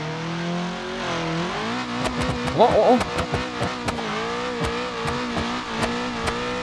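A turbocharged four-cylinder Volkswagen Passat accelerating hard in BeamNG.drive, the engine climbing in pitch through several gear shifts with sharp, evenly spaced backfire pops and a brief tire squeal, loud and close while a man exclaims over it.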